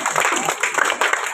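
Audience applause at an event honouring brave young competitors before a prize distribution, steady dense clapping that fills the whole short stretch at a moderate level, with no voices standing out.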